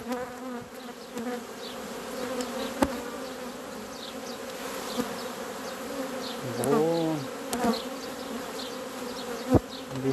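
Honeybees in an open hive hum in a steady, dense drone that fills the whole stretch, with scattered louder buzzes of single bees flying close and a brief rising whine near the middle.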